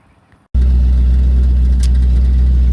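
The engine of a 1977 Chevrolet El Camino catches after a brief quiet moment and settles into a loud, steady, low rumbling idle close by.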